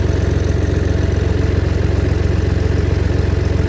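Tractor engine idling steadily before ploughing a field, a loud, even low rumble with a regular pulsing beat and no voices.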